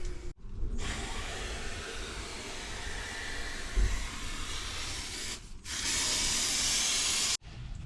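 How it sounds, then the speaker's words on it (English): Multi-solve sprayed onto silicone on tile, a loud steady aerosol hiss that keeps going with two brief pauses between bursts. "spray a bit of multi-solve on this, wherever it's gone, to attack that silicone"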